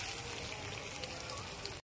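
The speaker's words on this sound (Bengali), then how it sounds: "লাল লাল করে আলুটা ভেজে নিতে হবে।" Potato pieces with salt and turmeric frying in a pan for a Bengali cabbage ghonto, giving a steady close crackling sizzle that runs evenly for about two seconds before cutting off.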